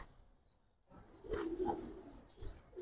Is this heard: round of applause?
no